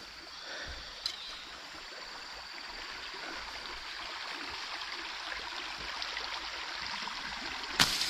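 A forest stream runs steadily and close by, its water swollen and muddy after heavy rain overnight, with a constant even rush and a couple of brief sharp knocks.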